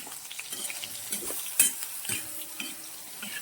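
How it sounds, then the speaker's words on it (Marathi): Soybean chunk filling sautéed in a pan with turmeric and mutton masala: a dry sizzle with scattered scraping and clinking stirs of the spatula, close up and with no talk. "थोडासा मटण मसाला परतून घ्यायचं आहे हे सारण परतून घ्यायचं आहे"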